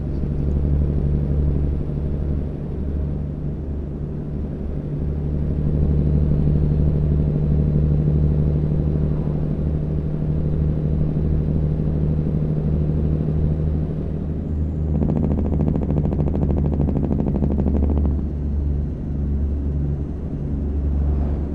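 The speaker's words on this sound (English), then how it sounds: "Custom engine sound." A Z Mods N14 custom engine on a Peterbilt 389 truck in American Truck Simulator drones with a deep, steady diesel rumble, loud and close, with a rattly, buzzier stretch partway through as the load shifts.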